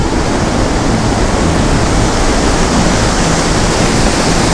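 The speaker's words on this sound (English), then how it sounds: "Look how close we get to this enormous waterfall." Roar of an enormous waterfall in the Zambian jungle, heard up close from a platform over the water: a loud, dense, unbroken rush that holds steady throughout with no voices.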